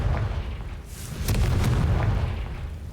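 A Confringo fire spell bursts in Hogwarts Legacy, a deep booming blast that rolls out with a sustained rumble and a few sharp crackles, fairly loud and heard alone without talk.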